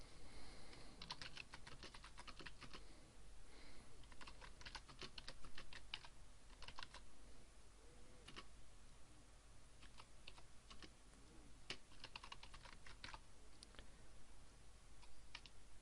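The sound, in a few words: typing text on a computer keyboard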